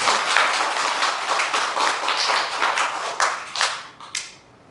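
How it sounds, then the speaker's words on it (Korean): Applause from an audience at a Korean Buddhist summer lecture, a dense spatter of clapping that holds steady for about four seconds and then thins into a few scattered claps before stopping. "여기서 여러분 박수 한번 보내주시죠"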